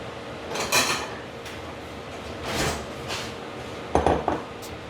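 Stir-fried cabbage in hoisin and oyster sauce, seasoned with sesame oil and white pepper, is scooped from the pan onto a dish: quiet, intermittent scrapes and clinks of a utensil against cookware, with short pauses between.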